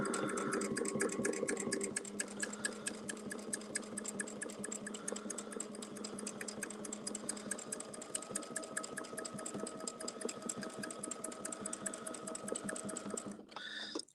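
A quilting machine stitching a 12-inch quilt block, giving a fast, even, mechanical rapid-fire clatter with a steady motor hum, running continuously and close before stopping at the end; no talking.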